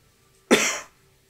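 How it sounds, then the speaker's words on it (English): A single sharp cough, loud and close, bursting out once and trailing off quickly, heard alone in a quiet room. "That cough was thematic."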